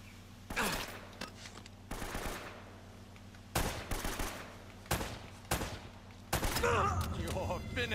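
Enemy gunfire in Uncharted on brutal difficulty: repeated sharp bursts of shots come in several separate volleys over a steady background, with a denser, busier stretch of fire and effects at the end.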